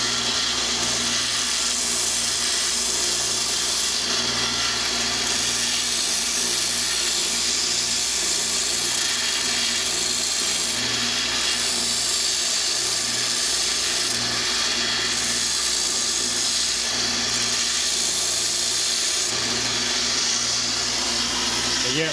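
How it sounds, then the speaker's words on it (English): A grinder sharpens the point of a nail for a pana dart, producing a steady, loud whirring grind with slight surges in intensity throughout, no speech over it. "it gets hot while I'm grinding"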